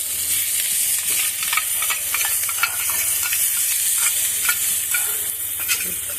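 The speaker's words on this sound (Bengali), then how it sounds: "দিয়ে আবার মশলাটা ভালো করে কষিয়ে নিই।" Chicken sautés with yogurt and spices in a pan, with a loud, steady hiss of frying and light spoon scrapes and ticks scattered throughout, close by and without any voices.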